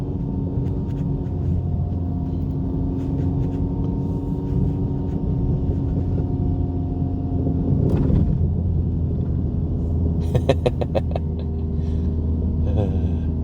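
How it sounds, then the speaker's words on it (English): A 2024 Acura Integra Type S on Michelin X-Ice winter tires drives through snow, its engine a steady loud rumble inside the cabin with a brief surge in revs, under talk. "It's super fun to drive in the snow."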